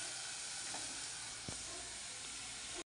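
Masala with ginger-garlic paste and yogurt sautéing in oil for butter chicken, a steady broadband sizzle and hiss that runs unbroken at close range, with one faint knock midway and no voices.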